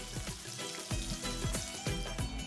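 Red onions frying in a pan with cloves, cardamom and cinnamon, a steady close sizzle with soft crackles and occasional louder stirring bumps, no voices.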